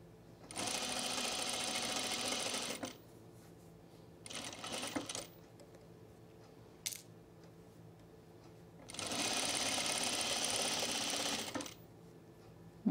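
A sewing machine stitches a strap seam on a Reynolds Top garment in three bursts: a long steady whir, a short run, then another long run, with quiet pauses between while the fabric is adjusted.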